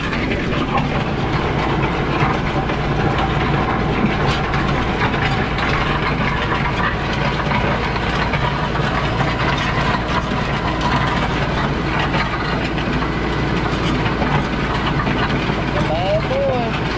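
A tractor engine runs steadily and loudly while a box blade grades a gravel driveway, a continuous close rumble with clattering, and a voice talks over it.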